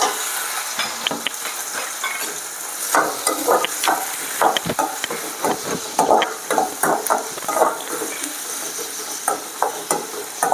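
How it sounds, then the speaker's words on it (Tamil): Onions and curry leaves fry in hot oil with cumin and fennel for an oyster mushroom stir-fry, a close, steady sizzle broken by scraping stirs. "இப்போ வந்து வெங்காயமும் கருவேப்பிலையும் சேர்த்துக்கலாம்"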